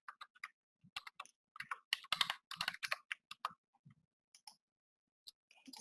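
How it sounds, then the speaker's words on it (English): Fast typing on a computer keyboard during payroll data entry, with quiet irregular bursts of key clicks, short pauses between them, and no talking. "So I'll just quickly type one in here."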